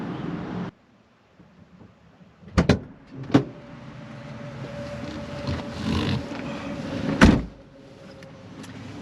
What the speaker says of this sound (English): take this beautiful Monte Carlo for a test drive